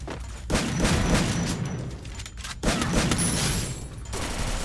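Bursts of gunfire from the Free Fire video game, two loud sustained volleys of rapid shots with a short gap between them, close and dense.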